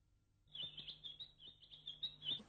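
Small bird chirping in a quick run of bright, high tweets over about two seconds, fairly close and clear, with a low steady hum beneath and no talking.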